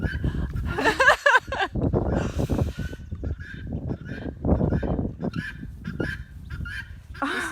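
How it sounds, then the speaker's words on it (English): Loud, harsh guinea hen screaming close by, repeated calls in irregular bursts over several seconds, with other fowl noise around at an open-house farm setting. "Can you guys hear the guinea hen screaming?"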